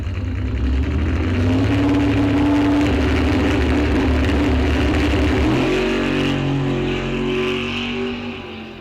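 Bracket drag race cars, among them a blue Chevrolet Camaro, roar loudly at the strip as their engines hold a steady drone and then shift pitch as they launch, a continuous close-up engine blare.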